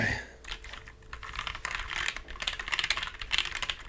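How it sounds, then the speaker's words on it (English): Typing on a keyboard fitted with new GMK keycaps over a brass plate produces a rapid, close run of crisp key clacks, uneven in rhythm and building in density, alone without speech. "That feel of a brand new GMK keycap set on a beautiful brass plate."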